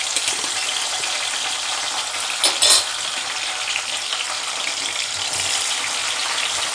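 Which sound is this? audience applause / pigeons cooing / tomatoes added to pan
tomatoes added to pan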